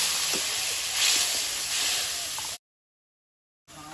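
Water poured over ground cumin, salt and Kashmiri chili powder in a hot pan sends up a loud, steady steamy hiss that stops abruptly partway through, then resumes faintly.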